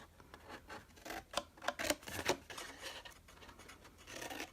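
Scissors cut through card stock up to a score line on a handmade lavender card, a run of close, crisp snips and scratchy slices with no voices.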